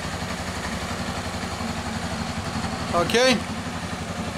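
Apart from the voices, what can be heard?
Honda CB 300 motorcycle engine idling at 1500 RPM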